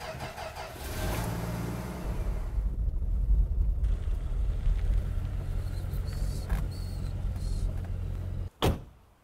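A 1964 Dodge Dart with a 3.7-liter straight six drives forward, its engine a low steady rumble mixed with wind buffeting the microphone, ending in a sharp thump near the close.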